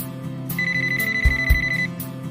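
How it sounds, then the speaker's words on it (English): A VTech cordless phone handset from an expandable corded/cordless system rings with a steady electronic warble, a sustained tone lasting about a second and a half, set against a soft musical bed. "you'll never have to scramble to find a ringing cordless handset."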